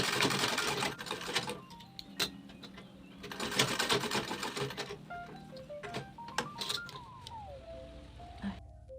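A sewing machine back stitches while sewing a bag, its needle clattering in short bursts with pauses between runs. The sound is close but fairly quiet, and a voice speaks briefly between the bursts.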